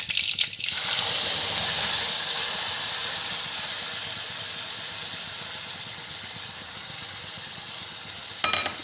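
Freshly ground spice paste frying in a hot pan, a steady bright sizzle running throughout with a clatter at the start and a brief utensil knock near the end, no voices.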